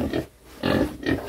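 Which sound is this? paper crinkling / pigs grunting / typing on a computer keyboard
pigs grunting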